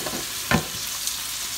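Pork chops fry in a hot pan for sugar pit pork chops, giving a steady close sizzle with a brief louder stir or scrape just past the midpoint.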